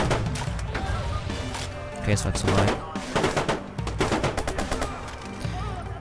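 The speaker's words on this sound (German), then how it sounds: "Und wir können jetzt einmal den Granatwerfer ausprobieren." Grenade launcher fire in the video game Watch Dogs, heard as several sharp, loud blasts and bursts clustered near the middle, mixed with other gunfire-like impacts while someone talks throughout.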